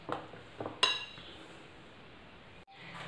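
A metal idli steamer pot clinks and clatters as it is handled, a few sharp knocks followed by a ringing metallic strike, then quiet.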